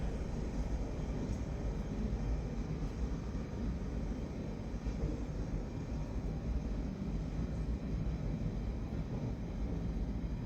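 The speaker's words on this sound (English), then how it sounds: "A subway." A subway train rumbles continuously, loud and close, a dense low roar with steady wheel and motor noise filling the whole stretch and no voices on top.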